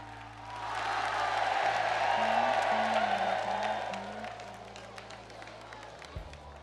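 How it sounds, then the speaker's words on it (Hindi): Large crowd clapping loudly at a public event in Bageshwar, welcoming the Prime Minister, a dense roar of applause that swells, holds for several seconds and then fades, with a low musical drone underneath. "जोरदार ताली बजा करके हम सब पूरा बागेश्वर परिवार स्वागत करें"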